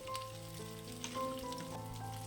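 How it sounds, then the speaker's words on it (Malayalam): Chopped raw green mango, about 400 grams, frying in hot oil with chilli flakes for a sweet and spicy mango pickle, giving a steady close sizzle with crackling bursts and faint background tones, no talking. "മുളക് കരിഞ്ഞു പോകല്ലേ. അതിന് മുമ്പായിട്ട് മാങ്ങ ചേർക്കുക."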